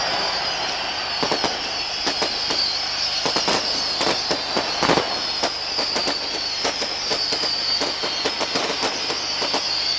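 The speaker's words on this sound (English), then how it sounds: "More fireworks from the railway stand to help aid and abet the Glentoran celebrations." Fireworks go off from the railway stand at a football cup final, a rapid scatter of sharp crackling pops and bangs over a constant high hiss of crowd noise, close and continuous.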